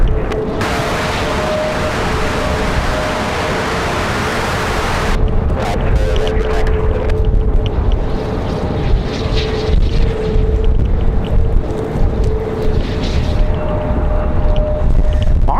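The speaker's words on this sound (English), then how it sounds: "as they're getting hammered with the wind just like we are" Strong gusty wind at Raleigh-Durham International Airport buffets the microphone in a loud rushing roar for several seconds, then gives way to a lower wind rumble with jet engine drone from aircraft in the distance.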